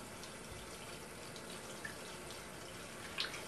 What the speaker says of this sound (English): inside here, I got to run the water too